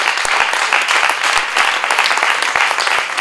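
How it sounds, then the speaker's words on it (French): A seated audience in a hall applauds a speaker, a loud, close, continuous crackle of many hands with a few sharper individual claps standing out, and no talking during it. "Je vous demande, si vous voulez, de l'applaudir"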